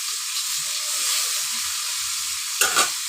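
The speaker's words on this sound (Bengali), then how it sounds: "এই দেখুন গনি মাছের মাথাগুলো ভেজে নিচ্ছে" Goni fish heads fry in a pan of oil with a steady, close, hissing sizzle and a brief louder burst of spatter near the end.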